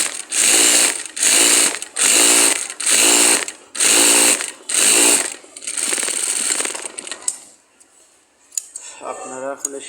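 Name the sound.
sewing machine stitching a kameez side seam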